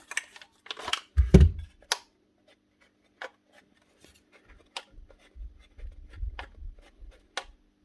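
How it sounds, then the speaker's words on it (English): A faulty 2019 Makita DKP181 18V cordless planer gives off sparse, sharp little clicks and ticks, with a couple of short low rumbling bursts from the tool in between, heard close up with no talking. "there's a wee click coming out of there"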